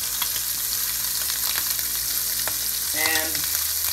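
Sea bass fillet and shrimp sizzle steadily in a hot pan, a continuous close frying hiss with brief stirring scrapes, and a short spoken phrase partway through.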